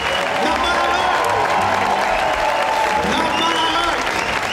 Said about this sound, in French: Bien prendre des applaudissements.